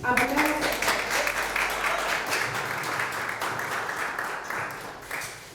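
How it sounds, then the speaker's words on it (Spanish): Applause from the audience at a political science book presentation on hydrocarbons, a full round of clapping that starts strong just after a speaking voice and gradually thins toward the end. "les pido por favor un aplauso para comenzar"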